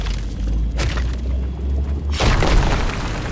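Rock explosion spell cast in the survival video game RuneScape Dragonwilds, a loud booming blast over a low hum, followed by a second crashing burst of shattering rock, with no talk.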